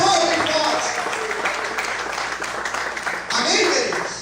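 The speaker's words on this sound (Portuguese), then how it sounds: "Aplauda o Senhor bem forte." A church congregation applauds through a morning worship service: steady, dense clapping from many hands fills the room, with a voice carrying over the top.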